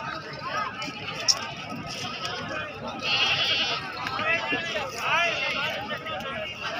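Several goats bleat in bursts over a murmur of people talking nearby at a goat market, the calls rising and falling amid general outdoor hubbub.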